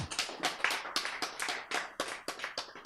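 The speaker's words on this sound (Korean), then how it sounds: "박수" Audience members at a lecture clap in a quick, fairly regular burst of sharp handclaps, close and distinct, with no talk over it.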